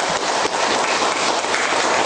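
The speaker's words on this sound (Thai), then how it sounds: "ขอเสียงปรบมือให้อาจารย์ดิเรกและวิทยากรทั้งสองท่านในวันนี้ครับ" Audience applause at an academic commemorative lecture, loud, dense clapping sustained evenly throughout.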